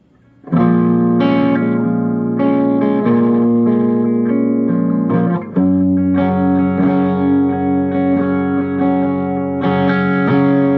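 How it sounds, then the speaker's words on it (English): Clean electric guitar from an HX Stomp modeler playing chords and melodic phrases with reverb and slight chorus shimmer, steady and fairly loud, no voices. "the cleans are strictly from my HX Stomp modeler"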